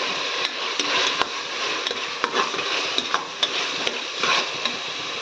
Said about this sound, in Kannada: ಚೆನ್ನಾಗಿ ಫ್ರೈ ಮಾಡ್ಕೋಬೇಕು. ಇವಾಗ ನೋಡಿ ಫ್ರೈ